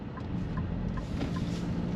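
A 2025 Nissan Rogue S compact SUV rolls steadily through a U-turn, its engine and road noise a low, even hum heard from inside the cabin with no one talking.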